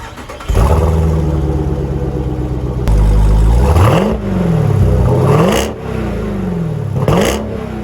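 Jeep Grand Cherokee Trackhawk, a 707 hp SUV with double dual exhaust pipes, starts and revs repeatedly, loud and close, with engine pitch rising and falling in several sharp blips over a steady idle.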